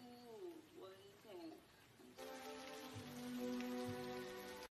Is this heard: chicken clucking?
no